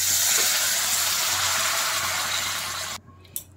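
Water is poured into hot, oil-separated masala for a Bengali-style fish curry with cashew, raisin, poppy seed and melon seed paste: a loud gushing pour with sizzling that stops abruptly, followed by a small clink.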